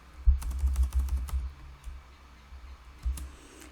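Computer keyboard typing while entering a math formula into a text box, with a quick cluster of soft clicks early on, a pause, then a few more keystrokes near the end, close and fairly quiet.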